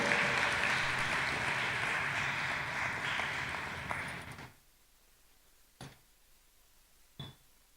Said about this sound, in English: let us give a warm welcome to our own ISRO scientist, Srimati G. Usha, by giving her a big round